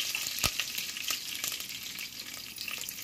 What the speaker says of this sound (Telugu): బాగా ఫ్రై అయ్యి వేగిన తర్వాత తాలింపులు వేగిపోవాలి. కరివేపాకు వేసేసుకొని కొంచెం ఇంగువ టేస్ట్ కోసం